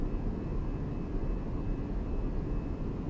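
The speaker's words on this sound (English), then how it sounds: "Oh, I love the sounds of this plane." A Fenix A320 airliner in Microsoft Flight Simulator drones in flight, its engines a steady, fairly quiet low roar with a faint constant whine and no talk.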